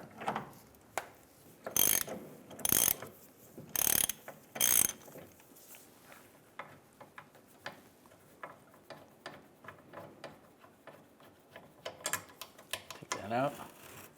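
Ratchet with a 15mm socket loosening a fuel tank strap bolt on a 2007-2013 Chevrolet Silverado 1500, heard as several short bursts of rapid clicking early on, then sparse scattered clicks and light handling noises.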